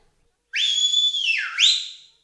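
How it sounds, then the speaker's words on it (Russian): A person whistles to call a horse, a single clear whistle that holds steady, dips and then rises again sharply, loud and close with nothing else around it. "Ой, ну когда ты отучишься от этого свиста?"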